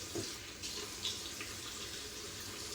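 Tap water runs steadily into a sink while a hand is wetted, a soft continuous splashing hiss close by with small shifts in the flow and no talking.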